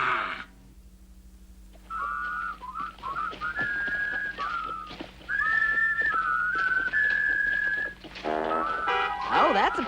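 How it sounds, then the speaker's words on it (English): Whistled song melody, a series of clear sustained and gliding tones with short pauses, heard in a cartoon scene with background sound effects and a brief voice near the end. "I wish I could whistle."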